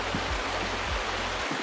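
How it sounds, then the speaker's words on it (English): A river flows under a bridge in the Lake District, a steady, full rushing wash of water close by with no voices. "I could hear the river"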